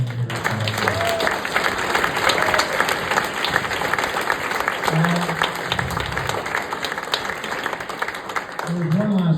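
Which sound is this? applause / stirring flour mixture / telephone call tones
applause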